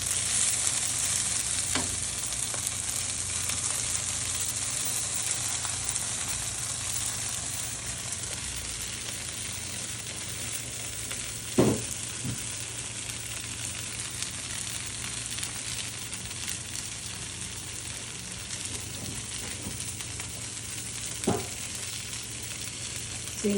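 Cauliflower florets for gobi 65 fry in hot oil with a steady, bright sizzle, broken by a few faint clicks of a utensil against the pan.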